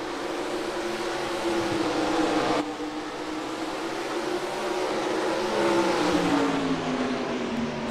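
Race cars roaring together in a Goodyear Mud Bash last chance qualifier, a dense, steady engine drone with rising and falling revs, heard from a distance without talk.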